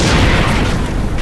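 A tank gun fires in the video game Combat Mission Final Blitzkrieg, producing one heavy, loud boom that rumbles and fades briefly.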